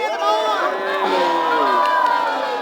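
Spectators cheer and shout for charging jousting knights at a St George's Day festival, a loud, sustained roar of many voices with rising whoops layered together.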